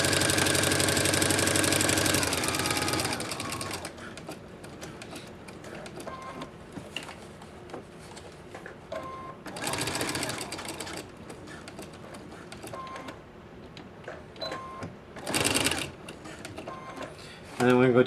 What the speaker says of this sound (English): make sure you buy a new sewing machine that has a knee lifter